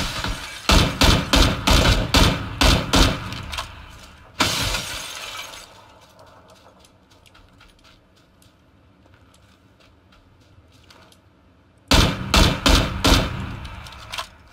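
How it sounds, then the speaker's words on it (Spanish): Rapid gunfire bursts in PUBG, loud and close, with a long burst of sharp cracks followed by a single blast, then distant scattered shots and quiet, and another fast volley at the end. "Disparo de cualquier lado"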